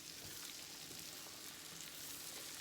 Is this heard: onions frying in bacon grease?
yes